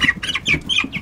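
Farm chickens clucking close by, a quick series of short, bright clucks packed into about a second, with no talk over them.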